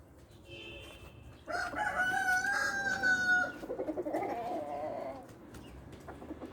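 Roosters crow loudly alongside clucking chickens in a flock that includes Ankara and Atak breed roosters, with long strained crowing calls overlapping at close range.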